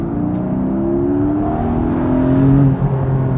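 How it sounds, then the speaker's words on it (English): A Porsche 718 GTS with its 4.0-litre engine accelerates hard, a loud close-up engine note with rising tones as revs climb, heard alone without talk. "4-liter engine has so much horsepower that you still get it so much direct throttle input."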